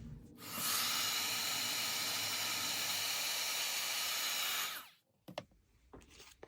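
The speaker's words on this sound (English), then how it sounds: "Heat set this side real quick." A heat tool blows steadily for about four seconds while heat-setting distress oxide ink on a playing card, a loud, even roaring hiss that starts abruptly and cuts off, followed by a few light taps and handling sounds.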